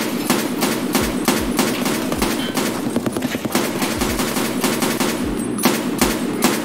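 Rapid bursts of gunfire in Escape from Tarkov crack out repeatedly, loud and close, with sharp shots spaced irregularly over a continuous background rumble.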